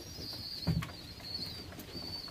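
A pigeon in a loft coos once, low and soft, against a steady background hum with faint distant chirps, on a wet, windy, rainy day.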